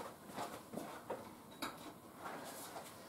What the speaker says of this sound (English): let me get myself a knife